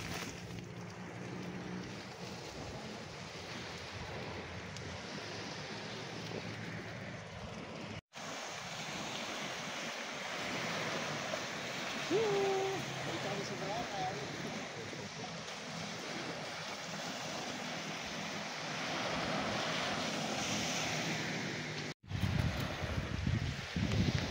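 Sea waves at the seashore, a continuous soft wash of surf with gusts of wind buffeting the microphone, fairly faint and steady across the whole stretch with no voices.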